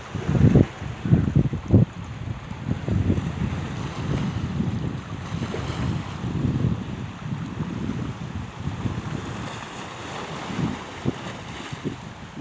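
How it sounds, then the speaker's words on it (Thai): Wind and surf on the coast at Samut Sakhon, Thailand: a steady, broad rush of waves with gusty wind buffeting the microphone, louder bursts early on, no voices. "ทะเล"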